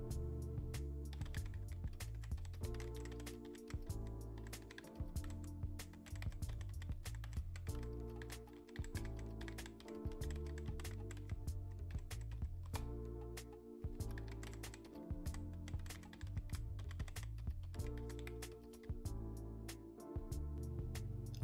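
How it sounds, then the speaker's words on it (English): Fast, steady typing on a computer keyboard, with dense clicking keystrokes in close succession and brief pauses, close up over a low background hum, no talking. "Let me speed things up while I type in some sample information."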